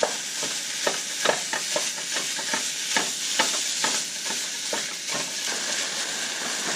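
Ground beef sizzles steadily in an oiled pan while a utensil scrapes and breaks it up, producing irregular clacks over a constant frying hiss.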